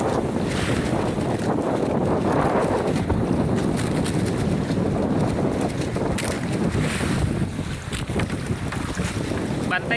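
Strong monsoon wind roars steadily across open sea around a boat, loud buffeting gusts on the microphone with splashing water and creaking underneath, continuous for the whole stretch with a slight easing near the end.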